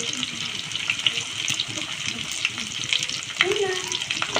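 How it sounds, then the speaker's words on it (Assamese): Fish frying in a pan with ginger and garlic, a steady close sizzle with faint stirring and watery crackle throughout, no one talking. "তাৰপাছত আদা ৰহুনখিনি দি তো এয়া মাছখিনি দি দিলোঁ"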